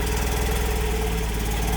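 A Mazda Miata NB2 VVT engine running steadily just after its first startup following an automatic-to-manual swap, a close, loud, even idle with a regular pulsing rhythm and no voices.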